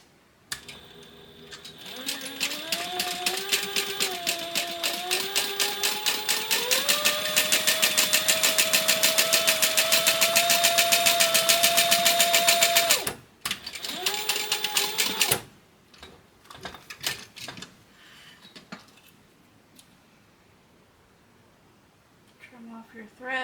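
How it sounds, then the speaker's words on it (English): A sewing machine top stitches and back stitches a glued, pieced-together purse: a loud, steady run of rapid needle strokes that shifts speed, stops briefly, resumes in a short burst, then gives way to quiet handling. "we want to top stitch this piece right here. And I am going to back stitch."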